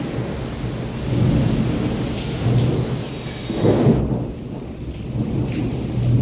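Nonstop thunder rumbles over heavy, steady rain in Wankaner during a power cut, the low rolls swelling and fading several times close by, with no voices.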